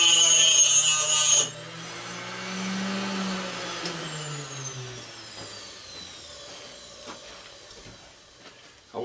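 An angle grinder bites into a brass fitting from a propane grill gas line in a short, harsh burst of grinding, then its motor whine slowly drops in pitch as the disc spins down.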